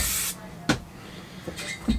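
Cleaner sprayed onto a new tire to strip off the release agent before mounting, heard as a brief hiss followed by a few short spritzes.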